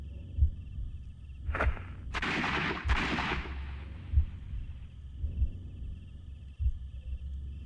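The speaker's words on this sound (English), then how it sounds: "Someone fired 2 shots." Gunfire in the Sherlock Holmes Crimes and Punishments video game: two loud, sharp blasts close together near the middle, with a few softer thuds and a steady low background hum around them.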